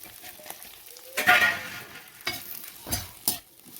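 Roasted banana pieces tossed into hot oil with fried chillies, a burst of sizzling followed by several spatula stirs and scrapes at irregular intervals, fairly close and quiet between strokes.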